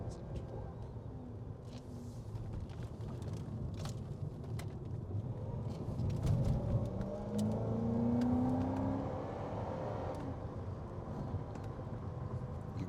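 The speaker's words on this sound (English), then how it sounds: "let's go for a drive and let you really experience the V with its 443 horsepower and 414 pounds of torque" A Cadillac XLR-V with a 443-horsepower engine is heard from inside while driving, its engine note rising in pitch through a strong acceleration amid road and wind noise, then settling into a steady cruise.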